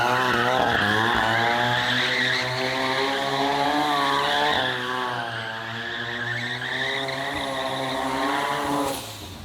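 A rotary-engined Corvette holds a burnout, the high, buzzing rotary engine roaring at steady revs while the tires squeal and skid loudly up close. The sound shifts in pitch and drops off suddenly near the end.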